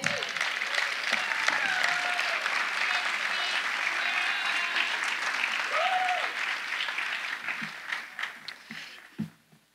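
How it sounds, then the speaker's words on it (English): An audience claps at a college building ribbon cutting, sustained applause with a few whoops over it, thinning into scattered claps near the end. "Another round of applause, please."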